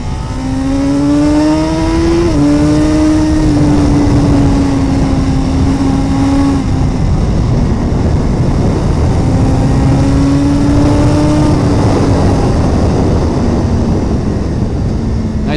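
A 2017 Suzuki GSX-R1000R sportbike ridden on a bumpy road, its engine note loud and close, climbing in pitch through the gears with a clear shift, then dropping as it downshifts under braking.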